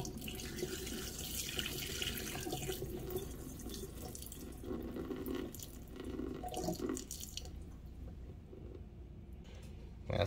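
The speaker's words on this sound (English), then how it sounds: "And this is water that I froze the fish in." Meltwater from frozen buffalo fish pours steadily into a kitchen sink, a continuous close splashing gush that thins and tapers off toward the end.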